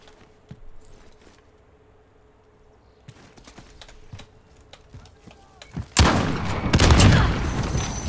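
Carbine gunshots in a combat video game break out after a quiet stretch of faint clicks, a loud burst of sharp, close shots crowding together near the end.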